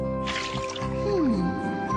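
Cartoon splashing of hot bath water, wet sloshing and dripping mixed under a tonal musical or vocal bed, with a sliding pitch sweep midway and steady level throughout.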